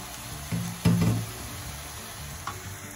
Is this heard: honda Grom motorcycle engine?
no